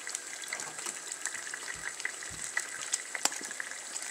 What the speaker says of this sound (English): I'm going to let it fry up.